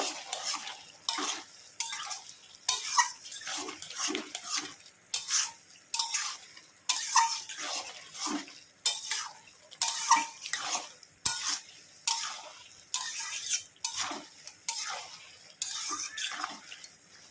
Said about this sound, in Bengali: ভালো করে নাড়িয়ে চাড়িয়ে নেব